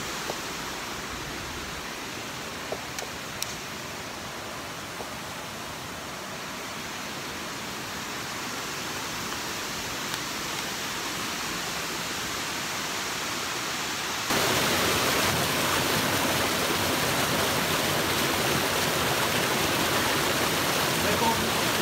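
Steady broadband rush of Allen Creek flowing in northwest Georgia woodland, close and continuous, growing noticeably louder partway through as if moving nearer the current.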